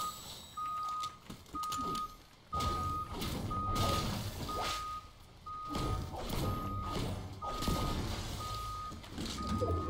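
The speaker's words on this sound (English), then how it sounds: "Oh my god, it's non-stop beeping" Steady, rapid electronic beeping repeats non-stop in a Fortnite match, sounding like a vehicle reversing alarm, loud and regular over game noise with bursts of clatter and impacts.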